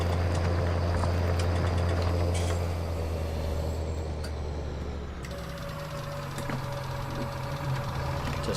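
A John Deere 7810 tractor engine in Farming Simulator 19 drones steadily at a low pitch, with faint mechanical clicks over the continuous hum.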